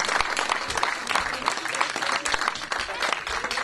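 Applause at a concert fills the room, a dense, continuous patter of many hands clapping, loud and close, with a voice faintly talking underneath.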